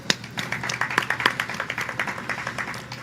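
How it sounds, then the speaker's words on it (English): A modest outdoor crowd at an evening mural lighting ceremony claps briefly, scattered individual hand claps rather than a full roar, near and moderately loud. "I think they deserve a round of applause, these lights"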